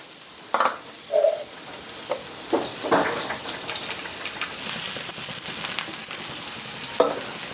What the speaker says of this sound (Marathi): त्याचं थोडंसं फ्राय करून घेणार आहोत तेलात